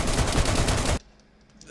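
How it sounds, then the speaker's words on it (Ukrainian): Rapid gunfire in the video game DayZ rattles loudly in a dense burst for about a second, then cuts off abruptly, leaving quiet background with a faint voice. "Хто стріляє?"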